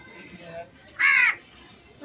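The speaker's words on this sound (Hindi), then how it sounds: "मोहम्मद बेचारे आज़ाद पंछी हैं" A single loud, harsh caw from a caged crow, lasting about a third of a second, stands out against quiet background noise.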